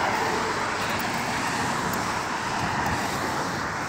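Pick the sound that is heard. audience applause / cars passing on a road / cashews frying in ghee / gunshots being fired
cars passing on a road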